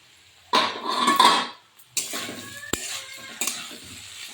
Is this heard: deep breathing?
no